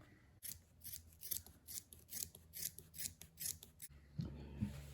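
Scissors cut seat upholstery padding along a drawn line for an MGTF seat, a close, rhythmic series of about nine crisp snips, then a muffled handling rustle.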